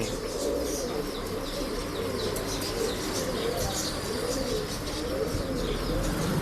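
Pigeons kept for breeding at a pet shop in Bangalore coo steadily, a dense, continuous murmur of several birds close by, with chirps and wing flaps mixed in and no talk.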